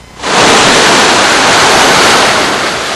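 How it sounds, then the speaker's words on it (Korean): Waves wash onto a Normandy beach in a loud, steady broadband roar of surf that swells in after a brief quiet moment and holds unbroken, with no voices. "파도 소리 잔잔한 노르망디 해변입니다."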